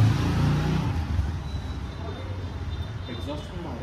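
A Kawasaki Z800 motorcycle with a custom exhaust runs with a deep, heavy engine rumble that is loud and steady, and people talk over it.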